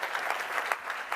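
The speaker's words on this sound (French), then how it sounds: "Applaudissements plus que mérités" A forum audience applauds a speaker honored for long service, a brief, even burst of many hands clapping at moderate distance with no voices over it.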